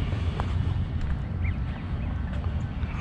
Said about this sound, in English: I'll be quiet so I won't scare off those birds over there.